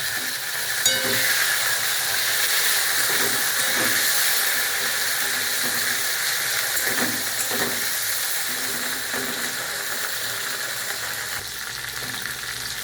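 Tomato goes into hot oil tempered with cumin for a potato-cauliflower curry, setting off a loud, continuous sizzling hiss close by that eases slightly toward the end, with a few soft stirring knocks and no talk.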